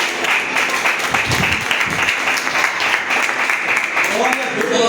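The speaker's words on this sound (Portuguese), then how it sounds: "uma linda salva de palmas ao Senhor" A church congregation gives a dense, continuous round of applause to the Lord, loud and close, with voices mixed into the clapping throughout.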